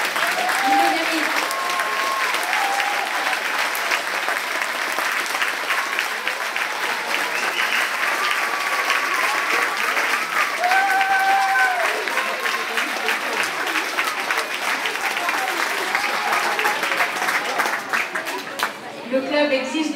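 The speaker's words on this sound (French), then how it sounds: "levez-vous et applaudissez-le." An audience applauds a judo club's first French champion at a season-end gathering, steady sustained clapping for the full stretch with some crowd chatter and voices mixed in, fading slightly at the very end.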